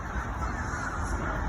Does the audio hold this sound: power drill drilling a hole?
no